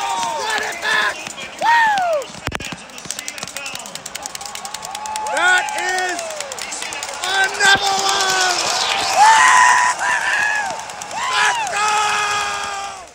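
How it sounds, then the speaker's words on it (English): Loud stadium crowd at a Winnipeg Blue Bombers versus BC Lions CFL football playoff game, a roaring mass of shouts and cheers with rising and falling yells and scattered clapping, close and continuous. "It is a loud crowd, like I'm saying."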